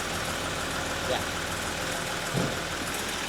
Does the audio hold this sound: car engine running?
yes